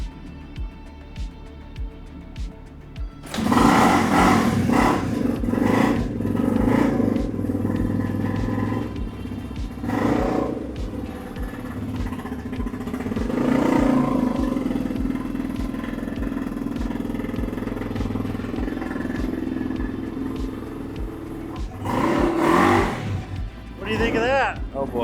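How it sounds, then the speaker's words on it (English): A 1993 Honda XR250R dirt bike engine idles with a loud, steady rumble, then revs up and settles several times, with people talking over it close by. "It's good to see the bike running."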